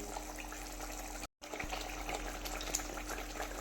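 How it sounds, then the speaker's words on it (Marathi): Cashews and onion being rinsed in clean water in a kitchen give a steady close splashing and running of water, cut briefly by a short gap, with no talking. "आता स्वच्छ पाण्याने एकदा काजू आणि कांदा आपल्याला छान असं धुवून घ्यायचा आहे"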